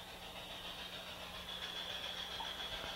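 An LGB model train engine runs steadily along its track, a continuous low mechanical hum and whir that stays even and fairly quiet throughout, with no voices.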